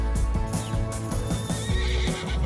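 A horse at a racing stable whinnies loudly and repeatedly up close, with hoof clip-clops mixed in across the short stretch and no speech.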